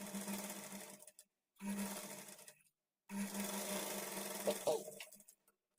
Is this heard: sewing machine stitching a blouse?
yes